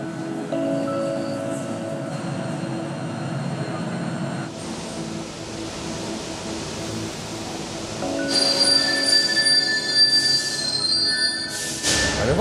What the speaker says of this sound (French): Allez, voilà notre métro.